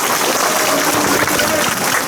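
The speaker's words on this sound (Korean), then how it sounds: "그럼 고생하신 두 분한테 박수 부탁드리겠습니다." An audience at a residents' briefing session applauds two guests, a brief, even wash of clapping from many hands.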